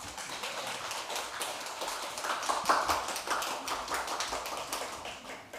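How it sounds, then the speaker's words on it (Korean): A church audience welcomes a visiting seminary dean with applause, a dense, steady patter of many hands clapping at close range that swells slightly midway and continues without speech. "우리 박수로 맞이하겠습니다"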